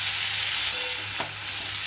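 Chili, salt and turmeric frying in a pan, a soft steady sizzle with a faint scrape of stirring partway through, close and quiet, with no talking.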